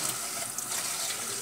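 Steady rushing of water pouring from a tap while cleaning sheep innards, continuous and close, with no voices.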